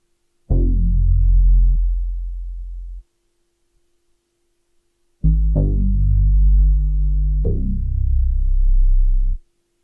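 A layered synth bass using the Moody MC preset from Morphine plays deep, sustained notes alone: one long tone sliding lower, a pause, then two more overlapping notes, loud and clean.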